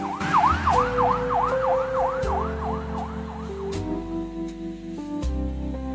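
A police squad car siren in a radio drama wails in fast rising-and-falling sweeps over a rumbling engine, loud and close at first, then stops as the engine drones on.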